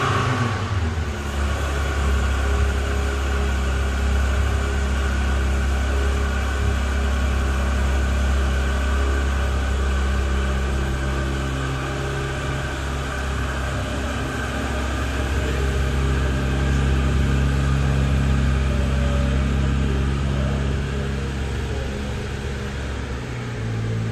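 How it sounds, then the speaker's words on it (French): A Porsche 911 GT3 Touring engine idles steadily with a loud, close, continuous low rumble and a broad mechanical hum, without a break and with no voices. "il nous a démarré la GT3 Touring."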